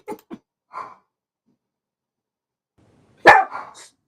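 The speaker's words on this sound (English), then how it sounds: "Sorry, my dog be acting up." A dog barks in a few short bursts, then falls silent for a long stretch before one loud, close bark and a rougher trailing woof with some breathy noise.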